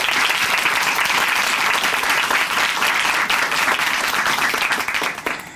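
A studio audience at a Christian TV program applauding together, dense sustained clapping that stays loud throughout and begins to thin out at the very end.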